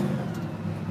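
A supercharged, fuel-injected 1966 Chevelle V8 blips briefly on a light throttle tap, a steady close engine drone with a low rumbling body, loud and alone with no talking.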